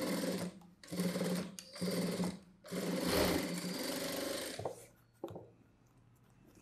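A sewing machine stitches an edge seam on a saree blouse in several short close bursts of rapid motor chatter, with brief pauses between them. It ends in quieter handling clicks, and there is no talking.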